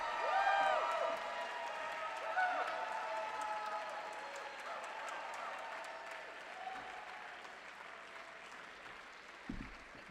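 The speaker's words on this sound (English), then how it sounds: "Let's give them a round of applause" An audience applauds at a recognition ceremony, continuous clapping from a crowded room that swells at the start and slowly tapers over about ten seconds.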